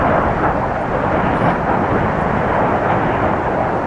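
Navy anti-submarine warfare helicopters fly in formation over the Gulf, giving a loud, steady, broadband engine and rotor roar that holds at constant strength throughout, with no voices.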